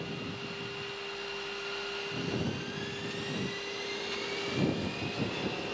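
Aircraft engines roar steadily from inside the cockpit during takeoff at St Maarten airport, a broad continuous rumble with a rising whine and a few heavier surges toward the end.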